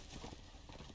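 A horse's hooves clip-clop in a quick, irregular walking rhythm in the Game of Thrones Telltale video game, faint and close.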